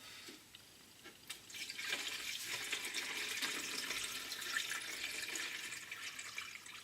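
Fresh distilled water is tipped into a container to rinse parts, a steady splashing pour that runs for several seconds at moderate loudness without talk.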